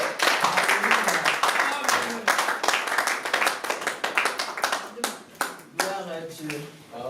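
A church congregation claps and applauds during a French-language worship service, with dense, rhythmic handclaps filling the space and voices audible under the clapping.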